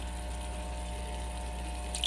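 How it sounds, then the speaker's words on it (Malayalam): Tamarind water pours into a pan while chilli pickle cooks, a soft steady liquid stream with a low background hum and a faint clink near the end. "നേരത്തെ മാറ്റി വെച്ച പുളിവെള്ളം ഒഴിച്ച് കൊടുക്കുക"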